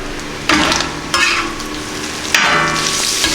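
Sausage frying on a Camp Chef FTG600 flat top grill outdoors in cold weather, a steady hissing sizzle broken by three loud scraping stirs of a spatula, with no talking.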